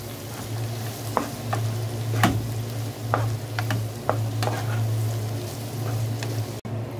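Meat with onion, peppers and garlic fries with salt, black pepper and paprika, a steady moderate sizzle under a low hum, punctuated by scattered clicks of stirring.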